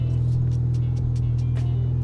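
A 2017 Honda Civic Type R idles while warming up, a steady low engine rumble with faint ticking pulses on top, close and constant throughout.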